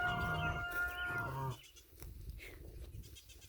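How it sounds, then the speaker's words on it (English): Several baby goats bleat in quick succession, loud and close, then fade into quieter background shuffling and faint animal sounds on a ranch. "I've got to head over to the baby goats because they are calling."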